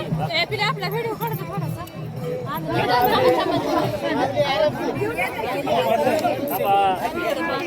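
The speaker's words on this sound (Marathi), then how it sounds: "अन्नदानासाठी कशी गर्दी उठते बघा" Dense crowd chatter and overlapping voices swell as people press forward for a free food distribution at a religious pilgrimage procession in Sadashiv Nagar, a steady loud babble with shouted calls throughout.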